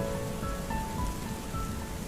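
Rain falls in a soft, even, continuous hiss with faint drip detail, steady and moderately quiet throughout with no voices.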